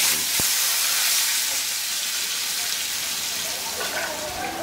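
Steady sizzling hiss of potatoes frying in hot oil, constant and fairly loud, with a faint clink near the start.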